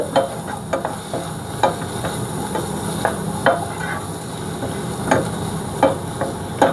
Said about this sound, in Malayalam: ഈ പച്ചമുളക് അങ്ങോട്ട് ഇട്ട് കൊടുക്കാം